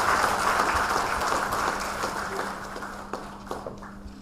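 Audience applause filling a conference hall at the EAI 2025 event, a dense steady wash of many hands clapping that slowly thins and fades toward the end, with a faint low hum underneath.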